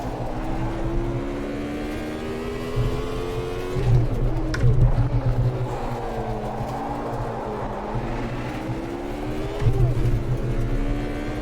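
A Benetton racing car engine in the Automobilista 2 sim game drones steadily throughout, its pitch rising and dipping as it shifts and revs, with a voice talking faintly underneath.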